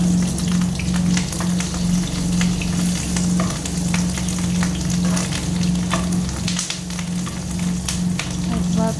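Potato curry with fried fish roe fritters bubbling and sizzling in a pot, a dense continuous crackle with scattered pops and stirring, close and fairly loud, without speech.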